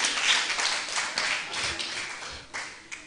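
Congregation in a church clapping during a service, a dispersed patter of hand claps at moderate distance, fairly quiet and fading in and out with a few sharper claps near the end.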